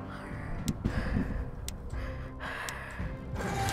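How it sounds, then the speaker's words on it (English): Heavy breathing close into a microphone during a Gears of War 4 gaming session, a few loud gusty exhales and gasps with a quiet background hum. "I'm breathing all in my mic."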